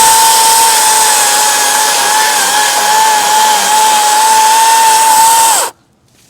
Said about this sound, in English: So I'm gonna try and cut them out with the chainsaw now